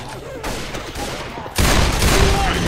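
Sustained gunfire from Left 4 Dead 2 during the Boathouse Finale on Expert, rattling steadily and jumping louder partway through as heavier volleys join in, with no speech over it.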